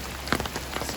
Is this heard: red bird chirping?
no